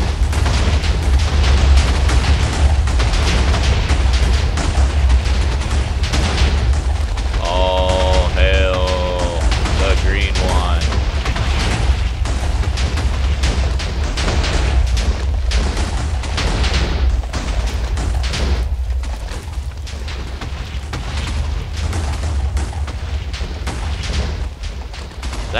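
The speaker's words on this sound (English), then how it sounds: "That blasted a hole through bedrock." Booming explosions from Minecraft blasting through bedrock, a continuous roaring, crackling barrage that stays loud and dense throughout, with some tonal game sounds briefly rising over it midway.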